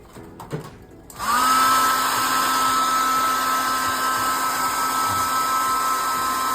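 Air blower cleaning a computer: a brief clatter, then a high whining blast of air that holds steady and loud, close by.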